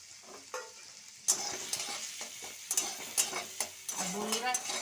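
Scooped-out onion pieces frying with whole cumin and garlic paste, a quiet sizzle broken by sharp spoon scrapes and clinks against the pan as the mixture is stirred, with bursts of crackle.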